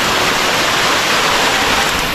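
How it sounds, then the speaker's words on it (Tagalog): Kaparkan Falls in Tineg, Abra pours in a loud, steady, broadband rush of falling water, close and continuous with no voices. "Welcome to Kaparkan Falls!"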